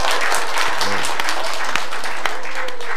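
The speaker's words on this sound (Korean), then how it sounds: "박수 한번 합니다." A church congregation applauds during a sermon, with steady, dense clapping from many hands filling the room throughout.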